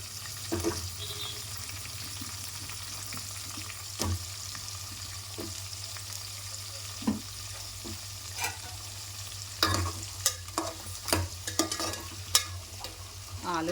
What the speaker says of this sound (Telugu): కొంచెం ఫ్రై చేసుకుందామండి ఆలు ఇలా ఫ్రై అయితే సరిపోతుందండి